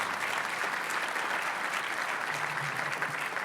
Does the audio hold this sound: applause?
yes